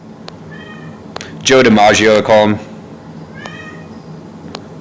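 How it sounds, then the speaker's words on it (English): A cat whining indoors: a few short, thin meows before and after a spell of loud nearby human speech, the cries fairly faint and close against a quiet room. "That's a cat whining."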